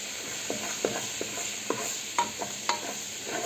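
A bouillon cube is stirred into pasta sauce in a pan, with a steady low sizzle under repeated short scraping strokes of a spoon at an uneven rhythm.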